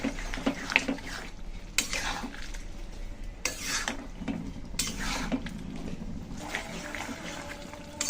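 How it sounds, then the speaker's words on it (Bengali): A spoon stirs and scrapes through a pot of vegetable curry with sour yogurt as ginger and cumin paste is mixed in. Repeated soft scraping strokes and clinks of metal sound close up, with no one talking. "দিচ্ছি আদা বাটা, ভালো করে মিশিয়ে নিচ্ছি।"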